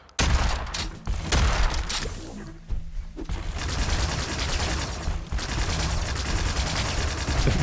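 Weapon fire in a multiplayer arena shooter league match, loud rapid shots and blasts in quick succession, a short lull, then continuous firing with mechanical clatter to the end.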